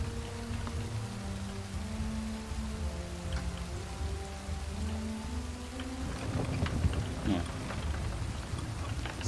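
Steady rain falls in the pirate video game Sea of Thieves, a dense, even hiss with low background tones that thickens into a brighter, louder patter in the last few seconds.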